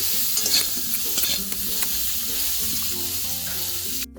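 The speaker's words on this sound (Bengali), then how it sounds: "এভাবে নাড়িয়ে চাড়িয়ে ভেজে নিচ্ছি।" Sliced ridge gourd sizzles in hot oil in a pan while a spatula stirs and scrapes it, giving close, continuous frying crackle with irregular scraping strokes.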